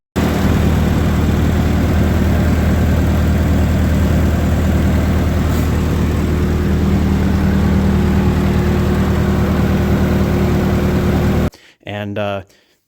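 An old welder's engine runs close by in a loud, steady, low drone, then stops abruptly near the end, where a voice briefly speaks.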